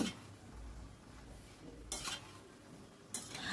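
Spoon stirring a rice and ash gourd mixture in a pan, a soft continuous scraping with two brief clinks against the pan, quiet and close.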